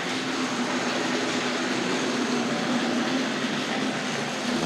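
A Tri-ang model railway Old Time Western train runs along its track, giving a steady, dense mechanical whir and rumble with a low motor hum, continuous and fairly close.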